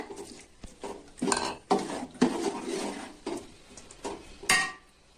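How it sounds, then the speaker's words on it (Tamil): Marinated chicken for biryani is stirred in a metal pot, a spoon clanking and scraping against the sides in uneven bursts over faint sizzling. "நல்லா கலந்து விடுங்க"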